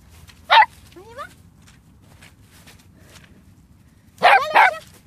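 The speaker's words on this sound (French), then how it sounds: "Là, le chien." Dog barking in two bursts, one short and a louder double bark later, with a person's voice talking in between during agility slalom training.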